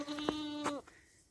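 Dairy goats in a barn give one close, drawn-out bleat with a quavering tone that cuts off abruptly, followed by a brief quieter call and near silence.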